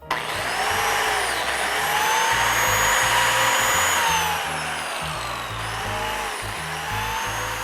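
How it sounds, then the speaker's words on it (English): A biscuit joiner cuts slots into wood for a home bar build, a loud, close, continuous power-tool whine with a rising and dipping pitch as the blade plunges and pulls back. "that is with a biscuit joiner"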